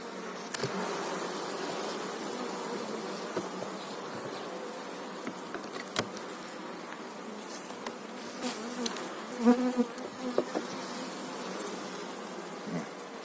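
Steady droning hum of many honeybees buzzing close by at a hive, continuous throughout with a few louder passes of individual bees.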